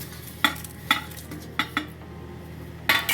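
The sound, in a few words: dry roasting cumin, black pepper and cardamom in a pan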